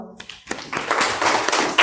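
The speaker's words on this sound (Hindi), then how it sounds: "ताली बजाओ" A group of students in a classroom starts clapping, with a few scattered taps at first building into a dense, close burst of applause.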